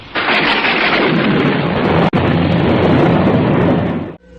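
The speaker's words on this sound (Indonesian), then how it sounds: "Manakala petir tiba-tiba meledak didahului oleh seleret sinar" A loud, sustained thunder crack booms and rumbles for about four seconds, broad and close, with a momentary break midway before the roll continues and cuts off abruptly.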